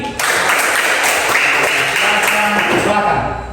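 An elementary school class of fifth-graders bursts into applause, dense and loud clapping that starts abruptly and holds steady for a few seconds before tapering, with voices mixed in.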